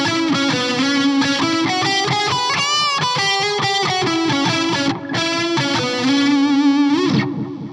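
A distorted electric guitar plays a steady riff with repeating echoes trailing each note, a brief dip near the end before the echoes fade out.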